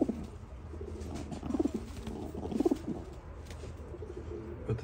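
Kakite pigeons, show-quality females, cooing close by in a loft, several rolling coos in quick succession rising and falling over a low steady background hum.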